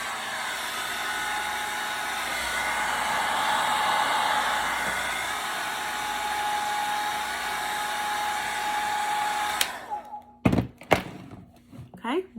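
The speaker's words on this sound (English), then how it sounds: "take my hair dryer and a round brush and get" A handheld hair dryer blows steadily while a long wig is shaped with a round brush. The close, even roar runs for about ten seconds, then cuts off, followed by a few handling thumps.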